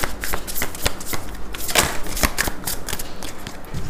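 Tarot cards are shuffled in a rapid, continuous riffling patter, close and fairly loud, with no voices.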